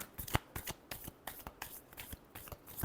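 Tarot cards shuffled by hand in a steady run of crisp riffling bursts, close and fairly quiet, with no talking.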